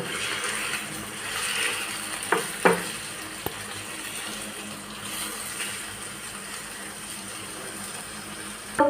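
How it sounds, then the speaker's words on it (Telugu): Prawns frying in a pan with turmeric and ginger-garlic paste: a steady, soft hiss of oil with a few scrapes of a spoon and small clinks, close and moderately quiet, no talking. "ఇప్పుడు మనం ఇందులో ప్రాన్స్ వేసుకోవాలి."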